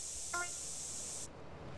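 A spray paint can hisses as it covers a graffiti tag in the video game GTA San Andreas, a steady close high hiss lasting over a second before cutting off, with a brief tonal blip early on.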